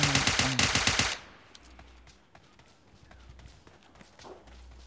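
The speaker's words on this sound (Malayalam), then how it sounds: "എവിടെയൊക്കെയോ വെടി പൊട്ടുന്നുണ്ട്." Rapid bursts of automatic gunfire from the mobile battle royale game PUBG Mobile Lite crack loudly at first, then give way to quiet, sparse distant shots and footsteps.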